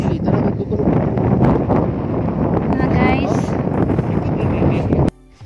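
Strong wind buffets the microphone in a steady, loud roar throughout, briefly cutting out near the end, at a scenic viewpoint at Osmeña Peak.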